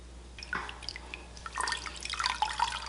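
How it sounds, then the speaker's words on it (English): Hot water wrung by hand from freshly dyed pastel green fabric, dripping and trickling in scattered irregular splashes, close and moderately quiet, with no voices. "I'm just getting a little bit of that water out of here just because it's hot"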